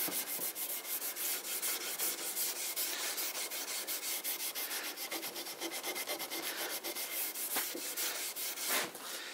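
Steel wool rubbing over a painted antique cabinet during stripping gives a steady, close scratchy scrubbing with rapid back-and-forth strokes, continuous throughout and with no talk.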